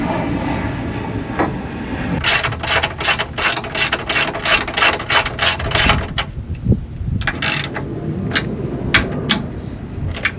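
Ratchet wrench tightening 12mm suspension bolts on a Subaru, giving a fast run of loud, close clicks in bursts, pausing, then resuming in shorter spurts.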